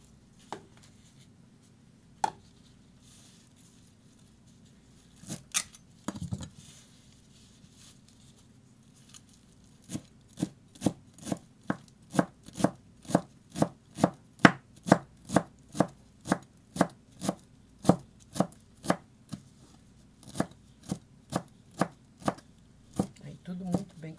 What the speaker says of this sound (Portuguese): Agora eu vou cortar a salsinha também.